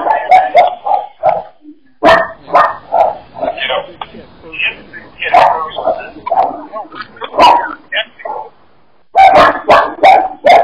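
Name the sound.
dog barking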